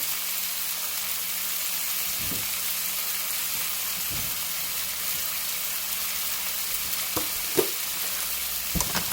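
Thin steak and vegetables sizzle steadily in a hot pan on medium high heat, a constant dense crackle with a few soft utensil scrapes and taps, and no talking.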